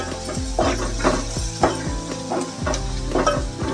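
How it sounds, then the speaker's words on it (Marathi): Garam masala being stirred into chicken liver frying in a pan, with steady sizzling under repeated scraping strokes of a spoon at a regular rhythm, close and fairly loud, no talking. "गरम मसाला ढवळूया चांगला."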